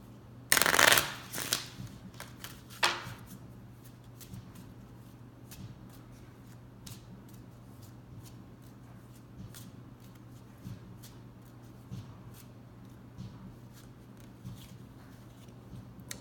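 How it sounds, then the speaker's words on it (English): A crystal oracle card deck being shuffled, with a loud riffle near the start, a second shorter one, then quiet handling and soft card taps over faint background hum. "let's pull a card from the crystal deck"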